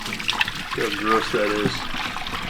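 Dirty water from a Bissell Revolution HydroSteam Pet carpet cleaner's tank trickling and splashing as it is dumped, a steady pour with a voice talking over it.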